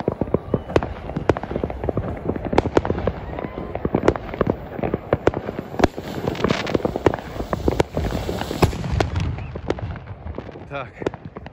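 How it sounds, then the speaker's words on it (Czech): A New Year's Eve DUM-BUM 50 firecracker battery goes off in a long, dense string of loud, sharp bangs and crackles, close by and crowding over one another for about ten seconds. "to je bohužel jediný výbuch, na který se tady zmůžu"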